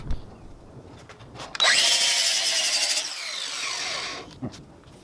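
A power sander whirs loudly for a couple of seconds on an old Toyota AE86 car dashboard after a few scrapes and knocks, steady and close, then cuts off.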